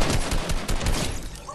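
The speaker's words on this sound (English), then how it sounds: "We just shot on him." Rapid bursts of gunfire in a shooter video game, loud and dense, firing in a continuous close volley that tails off slightly at the end.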